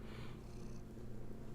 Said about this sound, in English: Oh, you got the purrs.